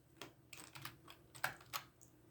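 Fingers type on a computer keyboard in short, quiet bursts of key clicks, faint and close, with no talking.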